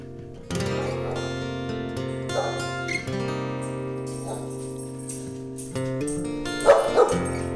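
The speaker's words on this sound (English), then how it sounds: "My dog doesn't freak out. It just barks at it like crazy" A dog barks repeatedly in spaced bursts over sustained tonal music, with a louder double bark near the end.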